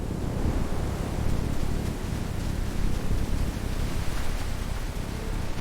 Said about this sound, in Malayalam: അയ്യോ, കാറ്റ് ശക്തമായി